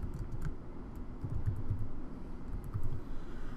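Fingers tap out a short burst of typing on a computer keyboard, soft clustered clicks close by over a low steady hum, with no voices.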